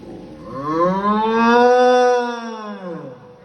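A person imitates a buffalo's long, low moo, one sustained rising and falling call lasting a few seconds, loud and close.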